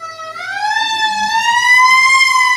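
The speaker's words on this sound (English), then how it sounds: "I apologize for y'all hearing that siren too." A loud siren wails steadily, its tone climbing slowly and holding high, close by with no other sounds over it.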